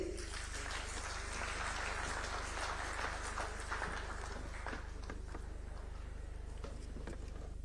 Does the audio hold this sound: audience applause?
yes